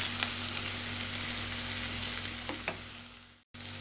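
Onion and minced garlic fry in a pan over a lowered gas flame, a steady, close sizzle with a few soft stirring scrapes and a brief cut near the end.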